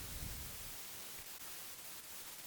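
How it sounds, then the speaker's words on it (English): Steady, even white noise from a lo-fi guitar pedal hisses throughout, faint and unchanging, with a couple of tiny dips and no other sounds. "on the left is this sort of consistent white noise"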